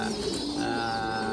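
Fantail pigeon kept as an ornamental bird, cooing softly with a brief, low, warbling call against a faint steady background.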